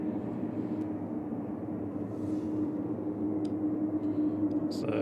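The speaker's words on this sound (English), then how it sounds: "Aer Lingus Regional, ATR 72600, EI FAV" Aer Lingus Regional ATR 72-600 turboprop at Manchester Airport, a steady, moderately distant engine drone holding even throughout with a constant hum, a few faint clicks near the end.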